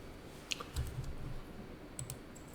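A few sharp computer mouse clicks land at the check start button in an accounting program, one prominent click followed by a softer pair later, close and quiet over faint room noise.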